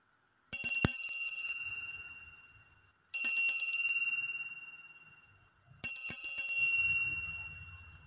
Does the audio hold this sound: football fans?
no